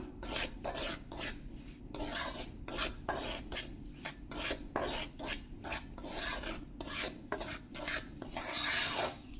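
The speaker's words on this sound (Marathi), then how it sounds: "मीडियम आचेवरती आपण हा रवा भाजणार आहोत" Semolina (rava) dry-roasts in a pan over a medium flame while a spoon stirs it, making a rhythmic series of dry, rasping scrapes, close and steady, roughly two strokes per second.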